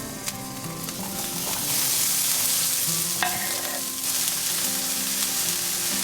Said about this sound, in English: Let's saute this in a pan.